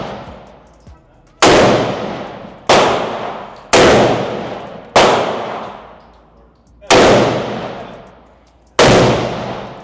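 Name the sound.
rapid gunfire from a nearby shooter at a range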